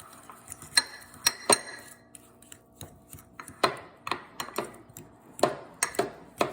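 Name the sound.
mixing butter into a baking mixture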